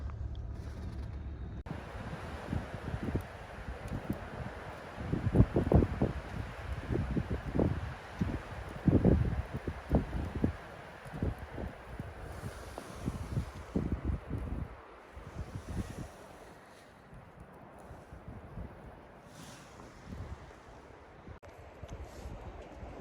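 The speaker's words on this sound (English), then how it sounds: "It is an extremely windy night tonight." Strong night wind in the Wyoming mountains roars and buffets the microphone in repeated loud gusts, easing toward a steadier, quieter rush near the end.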